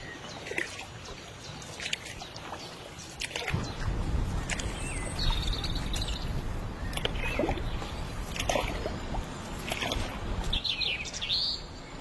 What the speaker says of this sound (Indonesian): Suara kicauan burung dan gesekan dedaunan yang tertiup angin menjadi musik alami yang menenangkan hati.